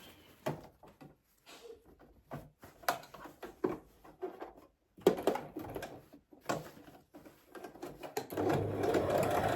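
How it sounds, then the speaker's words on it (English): Sewing machine running a straight stitch on dress fabric, with short bursts of rapid mechanical clatter separated by pauses, then a longer steady run at the end, fairly quiet and close. "And then I'll run a straight stitch."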